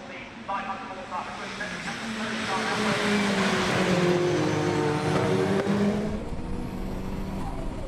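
Saloon race cars roll into a start at Oulton Park, several engines revving and swelling to a loud, layered roar as the field accelerates, with a commentator talking over the noise.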